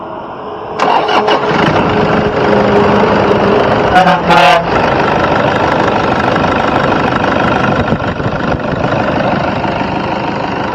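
The diesel engine of a 2012 Toyota Innova cranks briefly, catches and settles into a steady, loud rumbling idle close by, with a short voice heard partway through.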